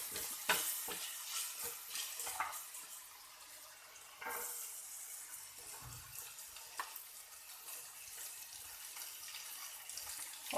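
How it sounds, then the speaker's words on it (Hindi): Ginger and garlic frying in a little oil, a quiet continuous sizzle with intermittent clinks and scrapes of stirring and a few louder pops. "उसके बाद आपने जिंजर गार्लिक जो है वो डाल देना है।"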